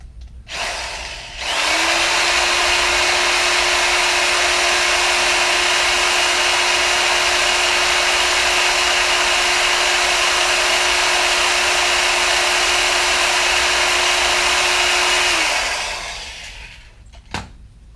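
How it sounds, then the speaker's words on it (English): A power drill whines at a steady pitch for about fourteen seconds drilling pilot holes in wooden dowels, spinning up and winding down, close and loud with no talking. "I'm gonna drill a pilot hole on one end of 12 of them."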